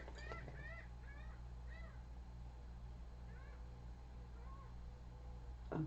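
Gulls calling outdoors, a few rising, wavering cries scattered through the stretch over steady low rumbling background noise, moderately distant and not very loud.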